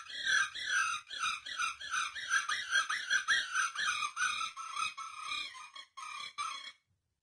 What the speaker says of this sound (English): the birds outside the window just started going nuts